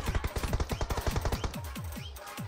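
Rapid bursts of automatic gunfire from the mobile battle royale game PUBG Mobile, loud and close, with dense repeated shots that thin into spaced single reports toward the end.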